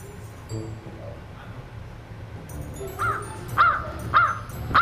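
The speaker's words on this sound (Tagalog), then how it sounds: "Yung uwak ang sumasagot." A crow caws four times in a steady rhythm, loud and fairly close, after a few seconds of quiet background noise.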